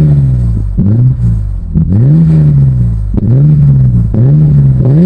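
A 1985 car engine revving up close in a sequence of about four loud blips, each rising and settling back to a rumbling idle between them, with no talking.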